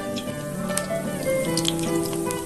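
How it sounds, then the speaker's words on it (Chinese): Batter-coated tofu frying in a wok of oil heated to moderate temperature, giving a steady, even crackle and fizz throughout, with no talk. "把挂有面糊的豆腐放进来炸一炸"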